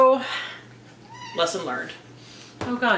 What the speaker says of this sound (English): So if you hear meowing, that's her.